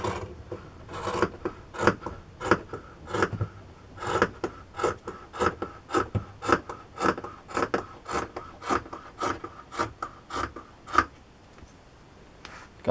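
Scissors snip repeatedly through a small piece of sponge, a steady run of about twenty crisp rasping cuts at close range, alone with no talk.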